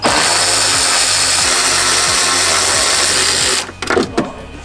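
A power tool whirs steadily and loudly while backing out 10 mm bolts in the frunk of a 2023 Tesla Model Y, with faint rhythmic clicks beneath, then stops abruptly and gives way to a few brief clunks.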